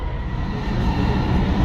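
Driverless, fully automated Dubai Metro train running above ground, a steady loud rumble and rolling hum of the carriage that holds evenly throughout without any voices.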